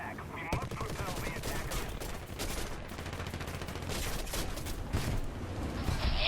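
Rapid aircraft gunfire rattles continuously through an aerial dogfight in a World War II setting, dense and rough amid engine roar, with a sharp burst near the start.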